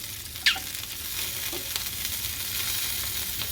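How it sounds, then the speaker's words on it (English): Sausages fry in a pan on medium heat with a steady, moderate sizzle. A sharp metallic clink and a few soft knocks sound early on, then the crackle continues evenly with no voices. "there you can see our sausages are cooking away nicely on a medium heat"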